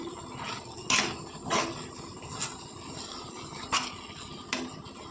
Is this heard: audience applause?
no